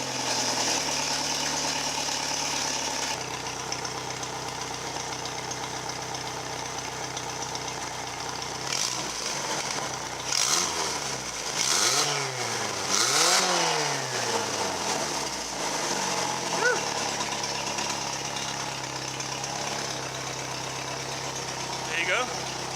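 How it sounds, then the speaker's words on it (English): A turbocharged Chevy S10 pickup engine fires up for its first start and runs, a steady close idle with a couple of rising and falling revs in the middle, with talk over it. "The S10's running with a turbo."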